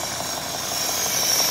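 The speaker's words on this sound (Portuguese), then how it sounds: "o motor já tá funcionando, a gente testou" Chevrolet Cruze engine idling steadily after repair, a continuous even mid-range hum with light mechanical rattle and vibration throughout, close and fairly loud, no voices.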